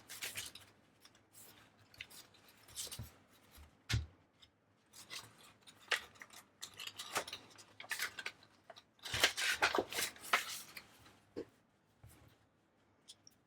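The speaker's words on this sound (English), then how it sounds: "Yeah, looks like I need to trim it just a smidge." Scissors trimming paper for a decorated journal make a quiet series of irregular snips and crisp paper rustles, close by, with short pauses between cuts and no talking.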